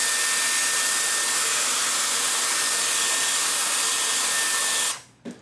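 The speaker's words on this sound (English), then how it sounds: "and then blow dry." A Dyson Airwrap blow-drying a section of hair gives a steady, loud, close-up rush of hot air for about five seconds, then cuts off abruptly with a brief puff before falling silent.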